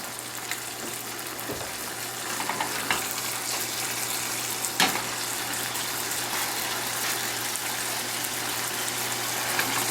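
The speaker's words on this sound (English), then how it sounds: "all that is the honey caramelizing around the burger. It's starting to bubble up" Honey caramelizing and bubbling around a burger frying on a hot surface, a steady close sizzle with faint crackles and pops, alone without voices.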